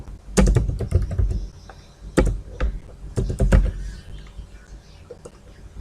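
Code being typed on a computer keyboard nearby, bursts of rapid key clicks separated by short pauses, with a few heavier keystrokes.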